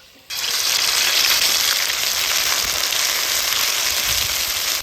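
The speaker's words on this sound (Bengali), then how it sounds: "দিয়ে দিব আদা রসুন কাঁচা লঙ্কা জিরা শুকনা লঙ্কা একসঙ্গে বাটা" A loud burst of sizzling as a ground paste of ginger, garlic, green chilli, cumin and dried chilli hits hot mustard oil, then a steady, intense crackling fry that holds until the end.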